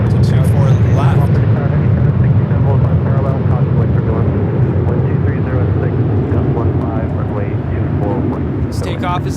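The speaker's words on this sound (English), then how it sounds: "We got that Delta 767 now making its way to 24 left." A Delta Boeing 767 airliner taxis toward runway 24 Left at LAX, giving a steady, loud, broad engine rumble and roar that holds for the whole stretch, with voices murmuring underneath.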